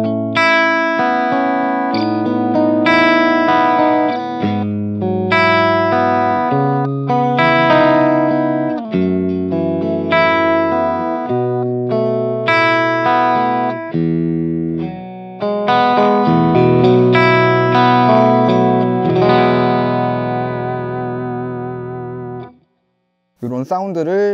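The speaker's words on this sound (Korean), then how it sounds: "미들과 스플릿된 브릿지 픽업에서는 까랑까랑하지만 예쁜 아르페지오 사운드," Bacchus Global Series BSH-AGED/RSM electric guitar on its middle and split bridge pickups, playing a bright, chiming arpeggio of repeated picked notes with effects, ringing out alone before a short pause and a final strum.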